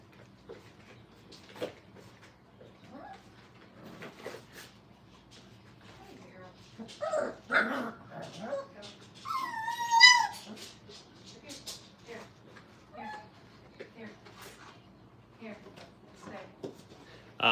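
Five-week-old puppies in a training kennel give scattered yips, whimpers and short barks, with one louder squealing burst midway, under ongoing talk from a man nearby.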